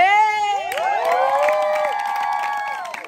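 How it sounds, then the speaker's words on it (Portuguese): A studio audience cheers for a guest being introduced, high excited shouts and whoops from children and adults layered together, with light clapping under the voices. "Uma salva de palmas pra ela, Liliane Gacê!"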